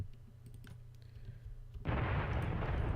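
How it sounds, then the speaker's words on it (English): Bombs landing on a base in War Thunder set off a sudden, loud broadband explosion roar partway through, following quieter clicking game sounds, with the blast sustained to the end and no one talking. "But you'll see the bombs are going to land. We'll take out this base first."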